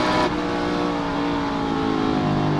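A Corvette race car at a muscle car racing meeting heard from onboard, its V8-style engine droning loud and close, holding a steady rumbling note with rich low harmonics as revs ease down the range.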